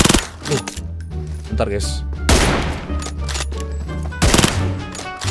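M24 sniper rifle fire in PUBG, a few sharp, loud shots spaced apart amid game noise, with someone talking over them.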